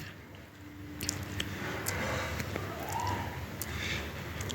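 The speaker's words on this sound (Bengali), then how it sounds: "কোরানো নারকেলটা আমি একটু হাত দিয়ে চিপে চিপে এর দুধটা বার করে নিচ্ছি" Grated coconut squeezed by hand with about half a cup of water to press out coconut milk for a prawn malai dish, giving soft, wet squishing and squelching sounds, close and quiet, repeated steadily.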